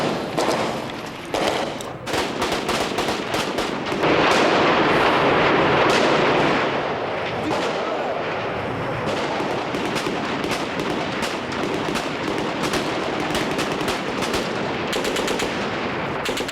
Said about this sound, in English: defenders replied with gunfire and their petrol bombs.